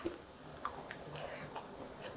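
Crispy fried eggplant coated only in starch being chewed, quiet crunchy bites and soft mouth sounds repeating at an uneven pace close to the mic.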